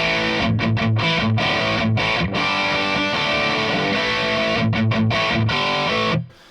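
Heavily distorted electric guitar through a Marshall DSL50 tube amplifier plays chunky, rhythmic chords with brief choppy stops, loud and close, ending abruptly.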